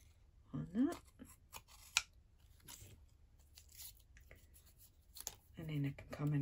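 Scissors trim excess Stampin' Up! Artistry Blooms designer series paper off a tile-pattern card, making a few quick snips and rustles close by, with a person talking throughout.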